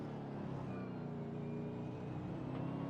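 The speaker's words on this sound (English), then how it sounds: "Just listen to his throttle through there." A racing car engine in a sim racing game, from the Adelaide round of the Logitech G Pro Invitational Series, holds a steady, even throttle drone throughout with no talking.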